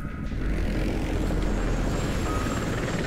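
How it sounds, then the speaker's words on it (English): A helicopter passes overhead in the shooter game F.E.A.R. 2, giving a steady, dense rotor and engine roar that holds at constant loudness throughout with no voices. "Helicopters."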